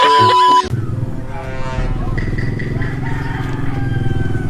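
A motorcycle engine drones steadily nearby, with faint talk and background clatter over the rumble.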